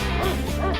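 A dog on a city street gives a quick run of yips and whimpering barks, close and fairly loud, lasting under a second with no talking over it.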